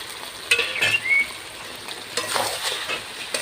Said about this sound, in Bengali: এবার আমি ভেজে রাখা আলু দিয়ে দেবো।